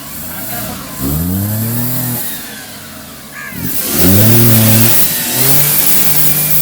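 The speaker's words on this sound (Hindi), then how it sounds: "अरे एक्सीलेटर दीजिए ना" A car engine revs up twice as the accelerator is pressed, rising and falling in pitch, close and loud, with people talking over it.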